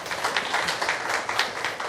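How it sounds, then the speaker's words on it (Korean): A seated audience claps for a professor at a gathering, a dense, steady wash of many hands that holds across the whole stretch at moderate loudness with no talk over it. "우리 좋은 대학에 이렇게 장소를 제공해 주신 우리 교수님한테 박수 좀 한번 부탁드립니다"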